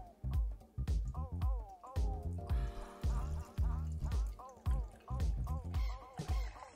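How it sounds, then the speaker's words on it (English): Bottled maple, whiskey and oak-aged imperial stout pours into a glass, a close, quiet run of glugs, splashes and drips in an uneven rhythm, with a brief steadier stream in the middle. "Try to pour it more aggressively. See if you can build up some head."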